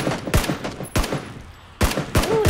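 Gunfire in PUBG, sharp shots arriving in separated bursts with brief gaps, loud and close.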